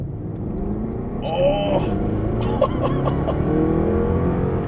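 A Jaguar XK-RS sports car engine revs with a steady, loud rumble outdoors, with a brief rising rev in the middle, while people speak briefly over it.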